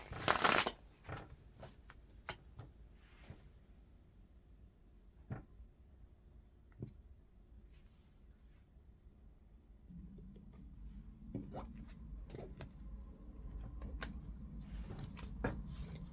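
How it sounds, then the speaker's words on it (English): Soft riffling and shuffling of a tarot-style reading deck, a sharp burst at the start followed by quieter repeated shuffles and light handling sounds, close and unaccompanied by speech. "a couple more shuffles and we're ready to go."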